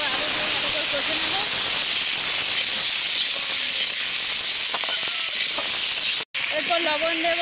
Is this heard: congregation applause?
no